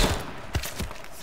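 In the video game H1Z1, three quick gunshots ring out in close succession, short sharp thumps over a faint game background.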